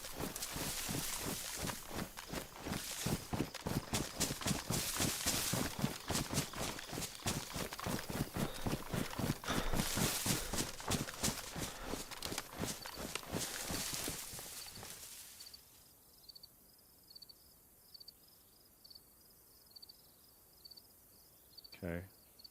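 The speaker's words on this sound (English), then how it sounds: "Every now and then I'm hearing like a sound that sounds like footsteps are close to me" Steady, rapid footstep crunches in the survival game DayZ, close and fairly loud for about fifteen seconds, then stopping, leaving quiet ambient insect chirping with a few faint taps.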